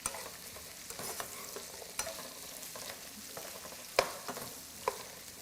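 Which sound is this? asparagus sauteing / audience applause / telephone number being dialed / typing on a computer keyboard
asparagus sauteing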